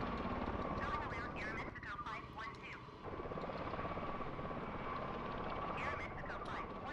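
A video game helicopter in horizontal flight, close to overspeed, keeps up a steady rotor and engine drone with a tonal hum, dipping briefly partway through, with faint chirpy game sounds over it.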